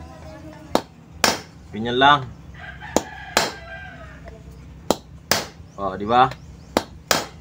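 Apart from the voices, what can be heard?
pounding washing machine lock with electric fan shaft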